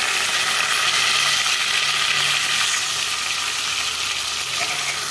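Onion paste frying in a pan with cumin seeds for a kabuli chana masala: a steady, loud, dense sizzle holding evenly throughout with no pauses.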